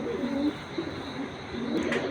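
Soft, low racing pigeon coos repeat a few times against a constant background hum, with no talking.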